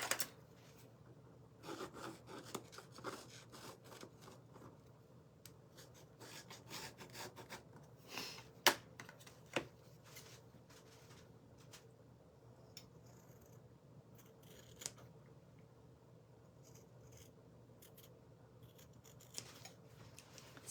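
Scissors cut through paper for a patriotic pinwheel craft, giving quiet, close snipping and rustling strokes in an irregular series, with occasional sharper clicks.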